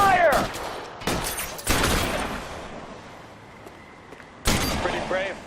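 Bursts of gunfire from a crime shootout in the video game L.A. Noire, loud broadband cracks at the start, middle and end, with shouting voices mixed in.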